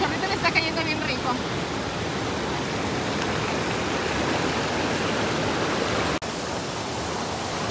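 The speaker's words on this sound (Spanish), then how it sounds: "el señor está súper cómodo ahí, el chorrito le está cayendo bien rico" A small waterfall of warm river water at La Fortuna, Costa Rica, pours onto a bather, giving a steady, close rushing splash that runs unbroken and loud for the whole stretch.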